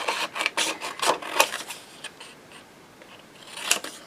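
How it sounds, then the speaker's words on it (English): Scissors snipping through a piece of card, a series of crisp, close snips in an uneven rhythm with short pauses between cuts, soft overall and with no talking. "Let's get a piece of this card from here. Okay, let's cut another piece."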